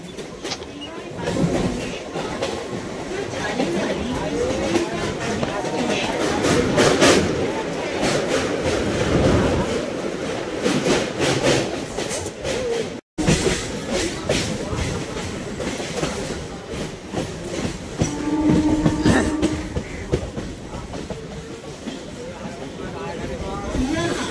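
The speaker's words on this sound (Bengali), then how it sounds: "টালিগঞ্জ স্টেশন ছাড়ার পর ট্রেনটি পরের গন্তব্য হলো নিয়ালিপুর স্টেশন" A Sealdah–BBD Bag local train runs between stations, a steady loud rumble with rhythmic clickety-clack of wheels over rail joints, while a voice talks over it.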